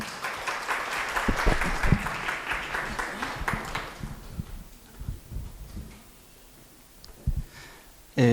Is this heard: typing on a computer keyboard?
no